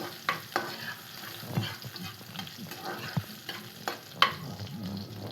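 Oil sizzles steadily with spices frying as a tempering for bottle gourd curry, punctuated by sharp pops and occasional clinks of a spoon stirring the pan.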